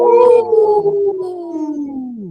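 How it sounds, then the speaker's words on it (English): A wolf howls close and loud, one long voice sliding slowly downward over about two seconds with a faint second tone above it, alone with no talking. "Wow, that was a trio of howls."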